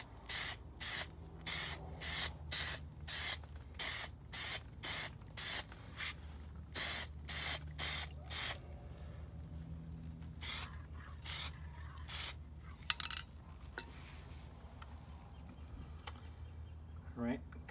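Short hissing bursts from an aerosol can of Plasti Dip coating the wheel center caps of a Toyota Prius outdoors, applied as a second coat in a quick rhythmic series of sprays with brief pauses, loud and close, with no talking.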